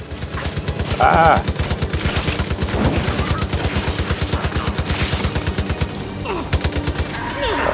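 A big gun in Far Cry 5 fires on zombies in a steady rapid stream of loud shots running almost without pause, with a man's brief exclamation and game effects layered over the shooting.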